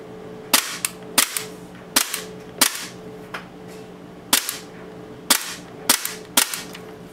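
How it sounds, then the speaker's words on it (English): A UAC Glock airsoft pistol with a lightweight blowback unit is dry fired, giving about a dozen sharp, snappy mechanical clacks in irregular pairs and singles, close and loud with quiet gaps between. "let's just do dry fire for you guys"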